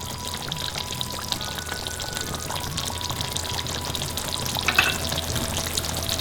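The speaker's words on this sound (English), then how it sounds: "So now we're going to just pour some cream." Cream pouring into a hot pan of frying stuffed brinjals over a medium gas flame, a soft steady gush over a continuous sizzle and frying hiss.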